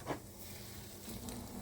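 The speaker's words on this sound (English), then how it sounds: "Bring it to a slight sizzle when you add your bread." Butter in a frying pan on medium-high heat, with bread for French toast, gives a quiet, steady sizzle and faint crackle that continues without a break and with no one speaking.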